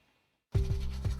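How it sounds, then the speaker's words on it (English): Tap water runs from a faucet during tooth brushing, a steady rushing flow that starts abruptly after a moment of silence and stays loud and close to the end. "Just turn off the faucet while brushing."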